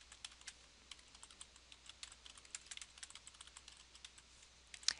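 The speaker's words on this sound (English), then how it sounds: "And then you can start typing." Quick, light taps on a computer keyboard, typed at a steady pace and fairly quiet, with one sharper keystroke at the very end.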